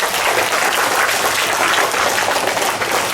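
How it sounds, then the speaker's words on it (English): An audience at a declamation competition applauds after a speech, a dense, even wash of many clapping hands sustained loudly throughout with no talking over it. "Let's all give her some applause."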